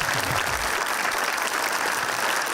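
Audience applause fills a studio during a Pakistani talk show, a steady dense wash of clapping that stays loud throughout with a little low voice murmur early on.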